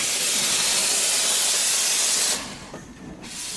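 A steam engine from the early railway age gives a loud, sustained hiss of escaping steam that cuts off abruptly near the end, leaving a quieter rumble and a brief final burst.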